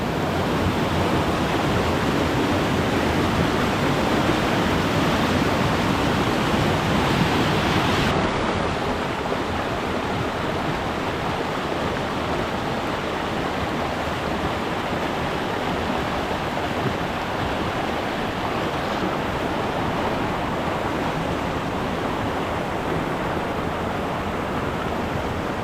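Rushing water of a creek along the Whitaker Creek Loop in the Upper Buffalo Wilderness, a loud, steady broadband wash that fills the whole stretch without letting up, with no voices.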